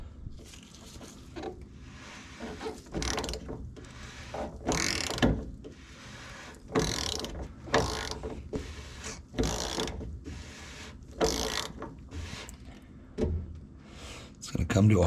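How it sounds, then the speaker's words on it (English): Wrench ratcheting an oil filter cap snug on a 3.0L LM2 Duramax diesel in a 2019-2021 Chevrolet Silverado, a string of short clicking mechanical bursts repeating at close range under background noise. "once that gets snug by hand, we're gonna grab a wrench"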